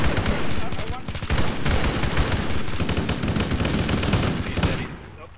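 Rapid bursts of automatic gunfire rattle almost continuously in a Halo match, dense and loud, then cut off sharply near the end.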